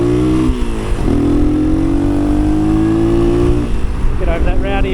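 A Honda car's rowdy exhaust drones loudly and steadily throughout while driving, its pitch climbing and settling as the engine works.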